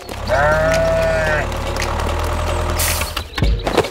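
A sheep bleats loudly and nearby, one drawn-out wavering call, over a steady low engine rumble.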